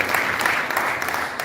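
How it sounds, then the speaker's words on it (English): A crowd at a graduation ceremony in Port Harcourt, Nigeria, claps steadily, a dense wash of applause that holds an even level throughout. "let us applaud him"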